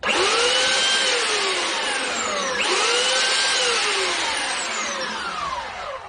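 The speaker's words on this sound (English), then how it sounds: "clean up the ends with just a regular hand sander" A regular power hand sander works the ends of a wooden Finnish kantele, giving a loud, close, continuous whine whose pitch sweeps up and down as the load changes, alone without voices.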